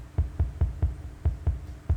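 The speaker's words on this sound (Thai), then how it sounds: "หัวใจเต้น" A heartbeat sound effect from the video game Incredibox Sprunki pulses steadily, with about nine deep, soft thumps in regular rhythm over a low hum.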